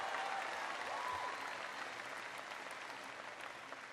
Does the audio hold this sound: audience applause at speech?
yes